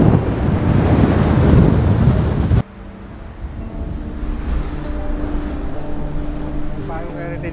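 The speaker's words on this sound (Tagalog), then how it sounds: "Ngayong alon sa dagat, oh. Napaka-violent. Lakas talaga ng hangin." Strong wind buffets the microphone with loud roaring over crashing sea waves at Tai O fishing village, Hong Kong, then drops off abruptly, leaving softer surf and gusts in the background.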